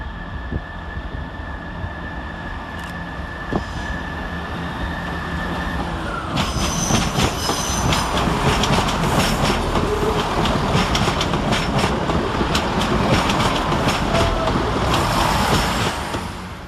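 Two coupled Class 165 diesel trains pull away from London Marylebone station, engine rumble building steadily as wheels clatter and squeal along the track, loud and close throughout.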